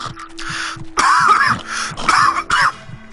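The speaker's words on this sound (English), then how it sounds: "sorry about the coughing" Several harsh coughs and throat-clearing sounds in quick clusters, close by, with a faint steady hum in the background.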